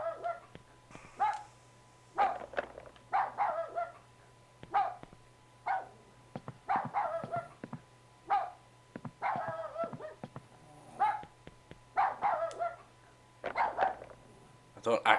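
Dog barks and whimpers from the PS2 horror game Rule of Rose, repeated in short bursts with yips and whines, fairly close and loud, with a steady low game hum underneath and a player talking between the sounds.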